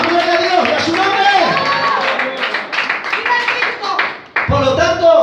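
A church congregation claps and cheers during a worship service, a dense burst of hand claps mixed with crowd voices that thins out, pauses briefly, then surges back.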